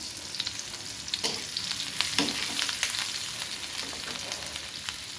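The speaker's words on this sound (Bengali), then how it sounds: "বেগুনটা ভেজে নেব প্রথমে" Eggplant fries in oil in a pan, a steady broadband sizzle with scattered sharp pops and crackles, close and fairly loud, with no voices over it.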